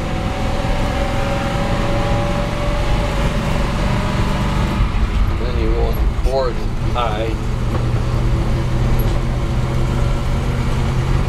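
A 1988 Chevy 2-ton dump truck engine runs steadily at idle, a loud continuous low rumble while people talk over it nearby.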